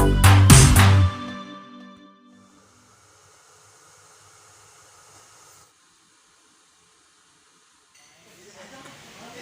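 A steam iron follows a short loud clatter with a faint, steady hiss of steam that lasts a few seconds, then fades and gives way to quiet background noise.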